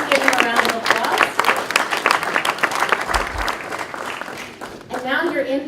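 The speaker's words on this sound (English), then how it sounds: "Please give him a round of applause." A room full of people at an Africa Day event in Houston claps steadily for several seconds, the applause thinning out before a voice starts speaking.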